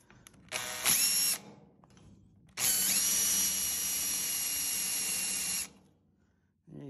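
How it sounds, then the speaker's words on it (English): A power drill with a small bit bores a pilot hole while building a DIY powder-coat curing oven from kitchen oven parts: a short whining burst, a pause, then a longer steady run of about three seconds, close and loud. "then I use a smaller drill bit, just a good way of aligning it so I know where it needs to go approximately."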